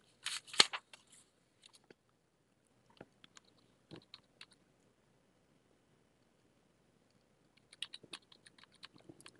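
Sparse, quiet keyboard typing in Microsoft Word: short bursts of clicks at the start, scattered single taps, a long silent gap, then another cluster of keystrokes, close and faint.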